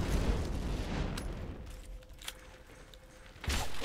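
In Borderlands 3, the Clipper gun fires a dense burst at the start. Scattered shots follow, and another loud burst comes at the end, with a faint steady tone through the quieter middle.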